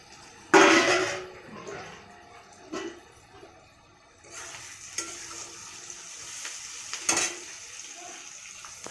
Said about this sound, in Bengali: কাঁচা লঙ্কা পেঁয়াজ দিয়ে ভাজছে